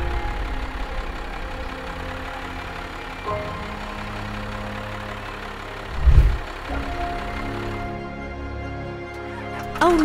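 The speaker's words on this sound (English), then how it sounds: "Rocky puts Bella in the JCB tractor and rushes to the hospital" A JCB tractor engine runs steadily at a moderate distance, a continuous mid-pitched rumble broken by a louder thump partway through.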